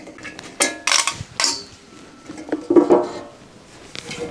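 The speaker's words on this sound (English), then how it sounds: "we'll just take the last couple screws out" Screws are taken out of a thickness planer's spiral cutterhead in a workshop: several short metallic clicks and scrapes from the tool and fasteners, close and fairly quiet, with pauses between them.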